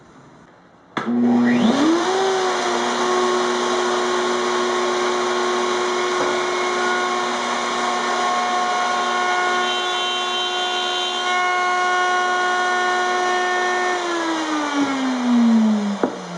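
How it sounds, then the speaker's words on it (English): A router table with a 1/2 inch bit spins up with a rising whine, then cuts a truss rod access cavity in a guitar neck as a loud, steady, close high-pitched drone before winding down near the end, with no voices. "changing the bit on the router table to a 1/2 inch bit for the truss rod access cavity here"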